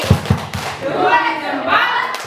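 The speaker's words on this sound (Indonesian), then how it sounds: "Kita kasih tepuk jempol untuk Bu Mira." A school audience gives a quick thumb-clap routine, three soft, dull claps in a short rhythm, followed by a voice speaking.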